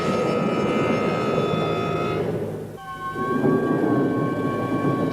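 A thunderstorm with wind and rain off the New Jersey coast, a steady wash of rain noise under a low thunder rumble that dips and then swells again, with a sustained tonal hum running through it and no voices.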